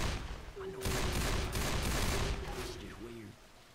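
Rapid gunfire bursts in the video game Left 4 Dead 2, several quick shots across a few seconds, mixed under game noise and people talking.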